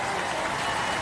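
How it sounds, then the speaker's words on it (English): Crowd applause at a televised Robot Wars grand final event, a dense, steady wash of clapping, heard at a distance and fairly faint. "give them a round of applause"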